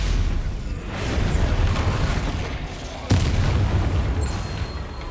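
Rumbling Confringo spell blasts in Hogwarts Legacy combat, dense booming explosion texture with a sharp impact near the middle, loud and continuous, with game sound layered throughout.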